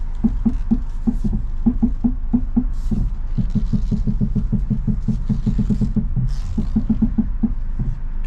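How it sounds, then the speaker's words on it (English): A 2014 Ford Fusion with suspected worn strut bearings makes a steady rapid knocking and clunking in the steering while the car idles, a dense patter of thumps with occasional creaks, close and loud. "It does sound like strut bearings."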